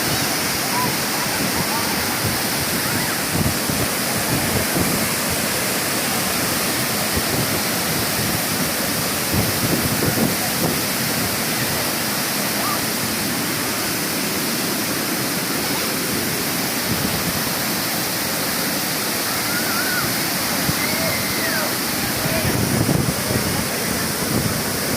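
Water plunges from Hatta Dam into a pool below, a constant loud roaring rush that fills the whole scene, with faint voices now and then beneath it.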